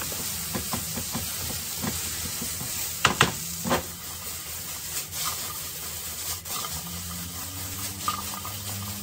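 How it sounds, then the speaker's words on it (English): Garlic sizzling in a hot pan while being stirred, a steady close frying hiss with scraping and clinking of a utensil against the pan, a few sharper knocks near the middle. "We got to make sure we give it a very, very thorough mix so the flavor can be released throughout the dish."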